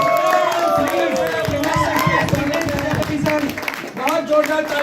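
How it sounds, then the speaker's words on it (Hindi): Crowd at a community celebration in Shimla claps and cheers for a guest, a dense, lively wash of applause with voices shouting and chattering through it, steady and loud throughout. "बहुत जोरदार तालियां प्रज्ञेश सर के लिए।"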